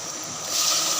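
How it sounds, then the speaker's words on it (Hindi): Water pours steadily into a pot of rice for chana pulao, a smooth continuous rushing wash that grows slightly louder halfway through the brief moment. "मैं बग़ैर नाप के पानी ऐड कर रही हूँ"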